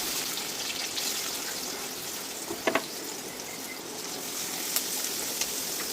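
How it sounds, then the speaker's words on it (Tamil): Onions, mustard seeds, fennel and coriander sauté in a pan with a soft, steady sizzle and a few faint clinks, quiet and close, with no talking. "வெங்காயம் நல்லா போட்டு வதங்கணும்"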